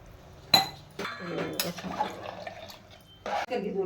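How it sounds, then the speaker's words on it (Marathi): Three glasses of water splash into a metal biryani pot in a few short bursts, with clinks against the rim, while a person talks over it. "तीन ग्लास पाणी टाकायचं एक"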